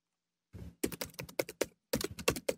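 Typing on a computer keyboard: close, crisp key clicks in two short, uneven bursts separated by a brief pause, with no voices.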